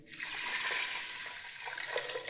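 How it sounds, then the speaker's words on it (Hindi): Water poured into a pot of washed masoor dal, a faint, close splashing and trickling stream lasting a couple of seconds. "अब इसमें मैं डालूंगी पानी"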